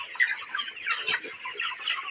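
Broiler chickens on a poultry farm cluck steadily as a dense, continuous flock chorus, with one sharper call standing out near the middle.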